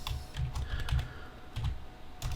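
Keys clatter on a computer keyboard as a password is typed to log on to a machine, a short irregular run of close, soft clicks in small bursts with no talking.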